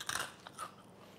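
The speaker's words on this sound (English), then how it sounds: "If you want to hear the sound of the crunch, this butter here, if I bite it, you'll hear it." A crisp bite into spicy Korean fried chicken, a couple of quick close crunches followed by a softer second crunch, alone without talk.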